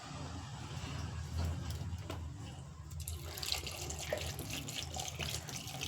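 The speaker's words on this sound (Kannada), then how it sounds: "ಒಂದಿಷ್ಟು ನೀರು ಹಾಕಿದ್ದೀನಿ." Water is run into a cooking pot for a traditional Mangalore cucumber sambar, a steady close rush of flowing water that rises in pitch as the pot fills.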